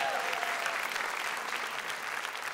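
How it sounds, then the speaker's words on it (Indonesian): At a stand-up comedy show, the crowd breaks into steady, moderately quiet applause with a faint voice briefly audible at the start. "Boleh minta tepuk tangan dong buat UPN."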